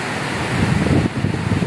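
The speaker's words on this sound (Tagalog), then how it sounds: "Patuloy pa rin ang hangin at ulan." Storm wind rushes in a dense, steady roar with some buffeting against the microphone, heavy rain mixed in, loud and unbroken.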